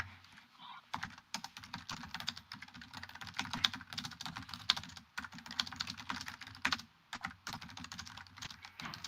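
Rapid, dense keystrokes clatter on a computer keyboard in irregular bursts with brief pauses, fairly quiet and close, with occasional faint speech in the background.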